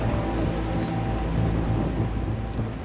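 A volatile thunderstorm on a storm chase drops heavy rain and hail, with a constant loud wash of rainfall and low rolling thunder rumbling underneath throughout.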